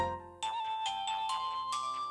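A phone rings indoors in a Telugu film scene, a bright electronic melodic ringtone with repeated tonal bursts, steady and fairly loud, with no voices over it.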